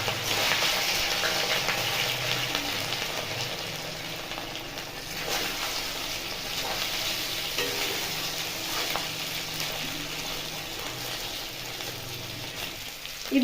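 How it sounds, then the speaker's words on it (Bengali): Pieces of idli deep-fry in hot white oil in a kadai, a busy continuous sizzle and bubbling that stays fairly loud and steady with occasional stirring, and no one speaks. "এবার তো কড়াইতে সাদা তেল দিয়েছি, তেলও গরম হয়ে গেছে। এবার এটাকে ভেজে নেব।"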